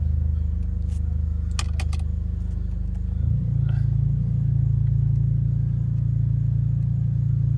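A Honda Accord Sport with the 1.5-liter turbo engine starts up close by, its low rumble rising briefly before settling into a steady, even idle, with a few light clicks and jingles early on.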